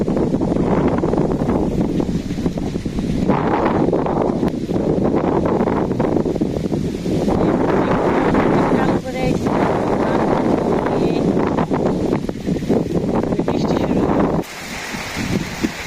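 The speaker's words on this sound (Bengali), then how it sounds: "মেঘ আর বাতাস, ঝড় একসাথে" Strong storm wind gusts roar steadily across an open village before rain, loud and close with buffeting against the microphone and rustling leaves, easing in the final moments.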